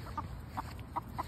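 Backyard chickens give a few soft, spaced clucks at moderate distance over a quiet morning background, with no one talking.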